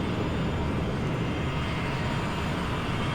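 Steady, dense roar of a Boeing 727's engines in a flight simulator game, a constant broadband rumble with no variation and no talking.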